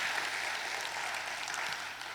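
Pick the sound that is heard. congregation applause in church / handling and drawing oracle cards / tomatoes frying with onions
congregation applause in church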